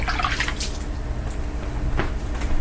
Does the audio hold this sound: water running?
yes